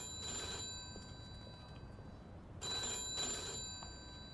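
An old telephone rings in the video game Mafia 2, two bursts of metallic bell trilling separated by a pause, over a soft background hiss with no talking.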